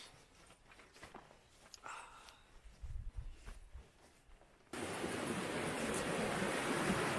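Creek water flowing through Deer Creek canyon on a backpacking trip, first faint with rustling and footsteps, then abruptly a loud steady rushing wash that fills the rest.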